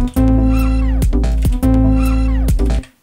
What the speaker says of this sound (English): what if we put pitch drop on the end of this? This is another Max for Live device